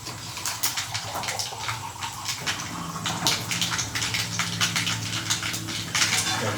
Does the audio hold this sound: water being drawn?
yes